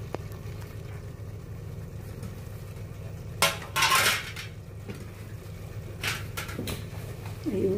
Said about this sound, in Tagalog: Lagyan natin ng cover.